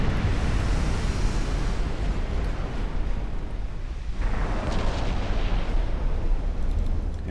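Heavy naval gunfire from a battleship in a strategy war game, a dense continuous roar of booming blasts with a fresh burst near the middle, loud and close with no talking.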